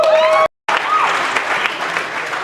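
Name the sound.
audience applauding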